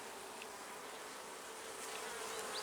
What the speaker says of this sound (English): Barely even hear them buzzing.